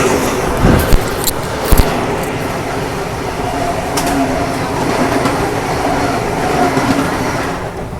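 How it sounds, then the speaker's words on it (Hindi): A Secunderabad–Visakhapatnam Vande Bharat express rushes past as a steady, loud rumble of rolling wheels, with a few sharp clanks and knocks near the start, sustained throughout with no talking. "सिकंदराबाद विशाखापट्टनम वंदे भारत।"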